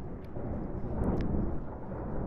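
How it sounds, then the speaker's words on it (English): Heavy rain hisses steadily while deep thunder rumbles low underneath, a continuous stormy wash with no voices over it. "we're having amazing rain and thunder, rumbling here."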